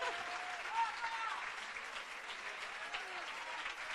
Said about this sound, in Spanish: Un aplauso para Rubén